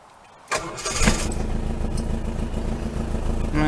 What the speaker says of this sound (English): I'm quite surprised she's started up and turned over actually, because usually that starter motor gives me nothing but trouble